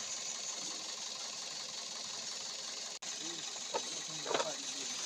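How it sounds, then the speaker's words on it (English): A Toyota NZE engine idles roughly with an ignition misfire, giving a steady, close mechanical hum and rattle with faint irregular knocks near the end. "You hear that sound? Valve idling."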